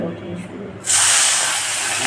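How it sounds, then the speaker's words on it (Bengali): Batashi river fish, salted and rubbed with turmeric, hit hot mustard oil in a pan. After a quieter moment a loud, steady broadband sizzle bursts out and holds close up without a break. "মাছগুলো ভালো করে ভেজে নিতে হবে"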